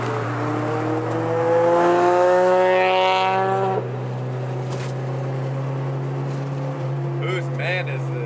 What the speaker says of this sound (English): This man's exhaust is so loud for no reason, bro.